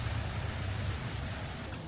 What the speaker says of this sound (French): C'est une journée de pluie en ce moment au camping